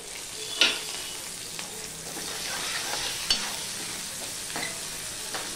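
Four slit green chillies and a bay leaf fry in hot oil, a steady crackling sizzle with a few sharp pops and occasional stirring scrapes.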